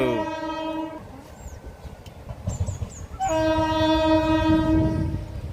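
A slow passenger train bound for Guntur sounds its horn, then the rumble and clatter of passing rail cars, followed by a second long horn blast close by.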